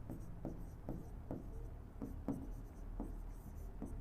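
Pen strokes of a handwritten maths solution for an arithmetic progression problem scratch across paper in steady, repeated bursts, close and fairly quiet, with no talking.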